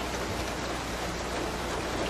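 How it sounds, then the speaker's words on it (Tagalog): Steady, dense patter of rain falling, a continuous broadband hiss with no pauses or voices. "Pabilog po, palalaki kasi ang patak ng ulan ngayon."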